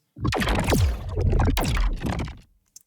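Designed sci-fi portal sound effect in its unmastered state: two loud swelling whooshes with sweeping, falling tonal swirls, then a fade to silence and a tiny closing blip.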